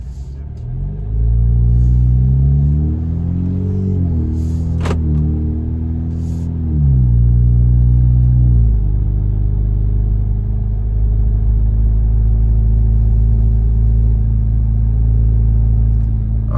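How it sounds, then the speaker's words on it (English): A Jeep fitted with a Flowmaster high clearance exhaust idles with a close, deep, steady rumble that drops and settles lower after a few seconds; someone talks over it at times. "the high idle just kicked itself off, so it quiets itself, you know, right down"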